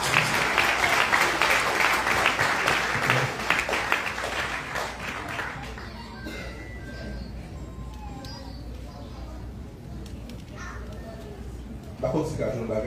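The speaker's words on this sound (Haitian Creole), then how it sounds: "On applaudit cet esprit." A church congregation claps for a visiting pastor preaching in the Bahamas, a dense burst of applause for about five seconds that then fades into quieter room sound with talking.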